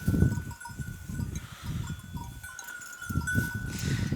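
A flock of sheep and goats bleats repeatedly at close range, with overlapping calls in irregular bursts over a steady outdoor background.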